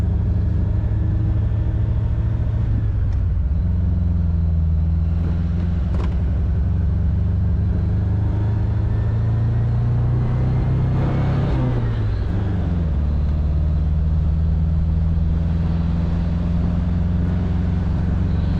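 A 1976 MG MGB convertible cruises on a highway, its small engine giving a steady low drone with road and wind rumble throughout, a brief shift in pitch midway, and no talk.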